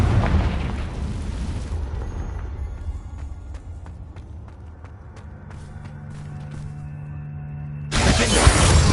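A Confringo spell explodes in the video game Hogwarts Legacy, a loud booming blast that fades into a ringing, crackling tail, followed by a sharp second burst at the end.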